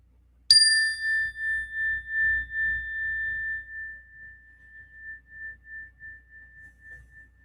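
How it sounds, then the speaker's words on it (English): One strike on a bell rung for peace gives a sharp, clear metallic ding that rings on as a long pure tone, slowly fading with a gentle wavering pulse over several seconds in a quiet room. "we're going to ring the bell here for peace, for Conti, and for all prisoners in jail."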